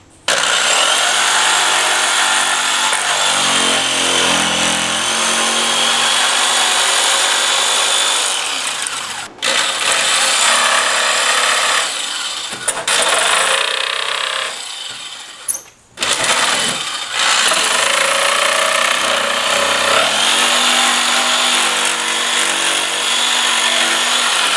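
A jigsaw cuts a hole for an electrical box in drywall, loud buzzing bursts of cutting broken by short pauses, heard close up.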